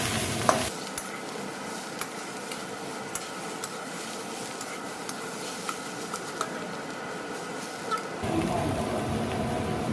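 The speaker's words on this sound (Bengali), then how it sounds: "সব শেষে চামচ দিয়ে, মানে আমি খুন্তি দিয়ে এরকম একটু ম্যাশ করে দেবেন, আলুগুলো বেশ বাঁধাকপির সাথে ভালোভাবে মিশে যাবে।" Spatula mashing potatoes into cabbage cooking in a pan, a steady sizzle with soft scraping strokes running throughout, close and moderately loud, with no talking.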